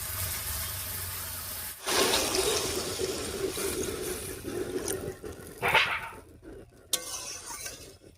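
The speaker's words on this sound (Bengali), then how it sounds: "এবারে ঝোলের জন্য জল দিয়ে দিচ্ছি" Water poured into a cooking pot for a fish curry with gourd, a steady splashing rush that starts abruptly and runs for several seconds, then tapers into fainter trickles and clinks.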